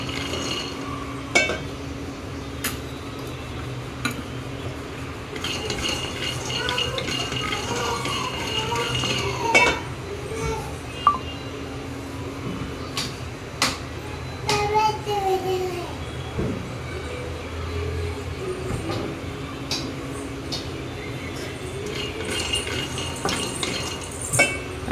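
Peanuts roasting in oil are stirred in a pan with a metal spoon, giving repeated scraping and clinking strokes with occasional sharper knocks, steady and close for a long stretch while someone talks now and then.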